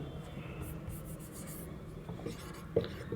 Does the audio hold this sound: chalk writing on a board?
yes